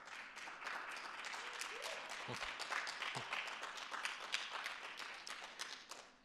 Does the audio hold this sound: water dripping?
no